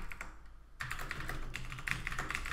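Code being typed on a computer keyboard during a C++ programming tutorial: soft, quick, irregular key clicks close up, with a short pause before a denser burst of typing, faint and with no voices.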